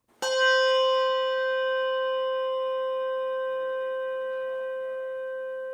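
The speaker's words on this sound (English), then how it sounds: "Jake's new bell, with the tang cut off." One strike of a Malmark handbell with its tang cut off rings out with a rich, shimmering tone and bright overtones, decaying gradually and lingering close by.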